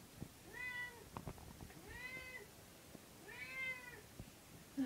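A cat meowing during a bath in a tub, three drawn-out plaintive meows at a steady pace, close but fairly quiet, with a few clunks and splashes between them.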